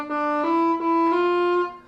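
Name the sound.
soprano saxophone note getting louder, crescendo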